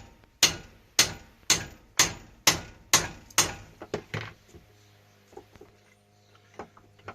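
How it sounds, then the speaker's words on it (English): A hammer taps a part into the recess of a 30mm socket during restoration of a Suzuki FZ50. About eight sharp, evenly spaced metallic strikes ring out close by, then a few softer, scattered knocks follow. "I'm basically tapping that through into the recess on the 30mm socket."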